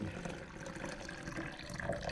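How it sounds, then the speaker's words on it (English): Tap water runs into a cup to about 300 milliliters for mixing protein powder, giving a steady, close splashing and trickling that continues alone for about two seconds. "So let's get some water in the cup."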